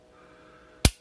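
Walther PDP full-size striker-fired pistol trigger breaking: after near silence, a single sharp, crisp click lands close and loud near the end, then stops.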